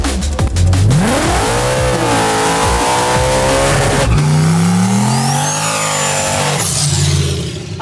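An 800hp Fox Body Mustang and a 1000hp junkyard Nissan Hardbody pickup launch together in a drag race, engines screaming loud and close through rising gear pulls with a brief tire squeal, then fading as they pass.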